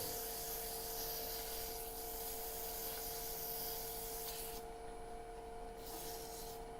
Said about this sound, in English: if I sand one last time